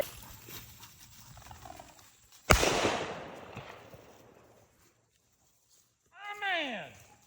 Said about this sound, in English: That's how you introduce your dog to gunfire